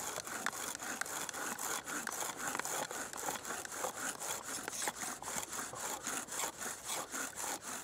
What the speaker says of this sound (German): Wir müssen das hier erstmal anbohren und hoffen, dass es da was Braunes gibt und dass sich das Loch vertieft.